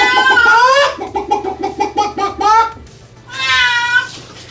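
A cat yowls loudly and repeatedly while being lowered into water, a rapid string of short, insistent meows followed by a longer drawn-out wail, close and piercing, with low background noise beneath.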